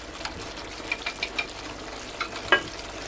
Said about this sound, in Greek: χτυπάμε λίγο πάλι τα αυγά